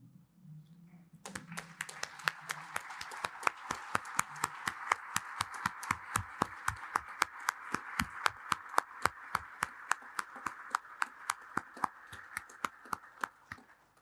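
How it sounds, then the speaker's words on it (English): A standing audience claps in unison to honor two men at an electoral reform event, a slow, steady rhythm of sharp, evenly spaced claps that rises slightly and holds for the whole stretch after a brief quiet moment. "I'm going to ask you to stand, that we can clap for them to honor them"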